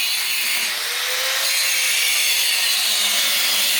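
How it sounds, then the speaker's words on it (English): An angle grinder grinds welds off during a truck build on a Nissan D21 Hardbody. It makes a continuous, loud, harsh hiss, steady and close throughout. "he decided to grind them off"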